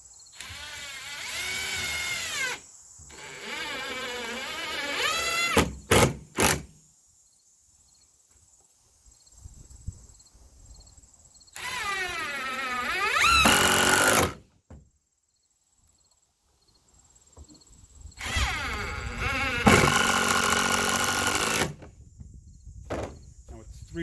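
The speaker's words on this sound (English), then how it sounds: "And we're going to put 3 screws in there." A power drill driving three screws into a mount for a Bell-Matic poultry waterer, with loud whirring bursts separated by pauses and a few sharp clicks between them, nearby and without talking.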